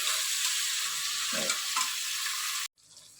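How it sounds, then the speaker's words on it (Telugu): Tomato pieces frying and stirred in a pan, giving a steady bright sizzle with soft scraping stirs close by, before the sound cuts off abruptly near the end. "టమాటా ముక్కలు వేసుకుందాం. ఇవన్నీ కలుపుకుందాం. కొంచెం సేపు వేయించుకుందాం."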